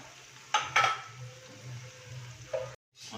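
Onion being sautéed and stirred in a pan for a spicy Koli-style chicken rassa, with a low steady sizzle broken by a couple of sharp clattering stirring strokes near the start and another near the end.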